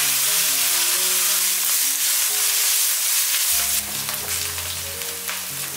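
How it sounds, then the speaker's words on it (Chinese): Minced meat and chopped shiitake mushrooms stir-fry in a wok with a steady close sizzle and scraping stirs, the frying hiss shifting partway through as the pan is tossed. "先把肉末放进来炒香， 炒到变色了之后呢，加入香菇碎，再翻炒一下。"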